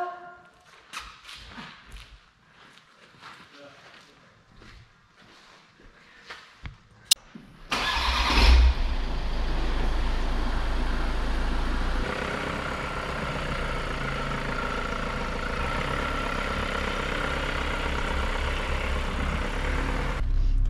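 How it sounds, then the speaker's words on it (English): VW Transporter 6.1 camper van: some clattering and knocks at first, then the engine starts and runs loud and steady, settling into a sustained drone as the van pulls away and drives on. "This is our first drive in our new camper"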